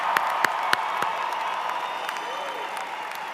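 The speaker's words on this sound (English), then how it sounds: "Let's have a huge round of applause for this amazing group of graduates." Applause from the audience for a graduating class at a campus ceremony: a few sharp, nearby claps stand out early, then give way to a softer, distant wash of crowd noise with a steady hum underneath.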